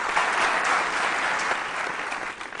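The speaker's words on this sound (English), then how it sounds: "A round of applause" Audience applause at a school quiz show grand finale, a dense, steady wash of many hands clapping from start to finish, fairly loud and easing off slightly at the very end.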